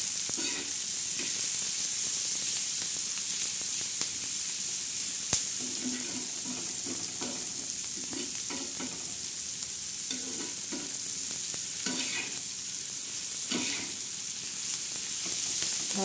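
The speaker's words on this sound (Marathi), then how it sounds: "लालसर चांगला कांदा भाजून घेणार आहे," Chopped onion sizzles steadily in a hot pan while being stirred now and then, frying toward a deep reddish brown for a spicy black-masala fish curry; a continuous close crackle with soft scraping strokes and no talk.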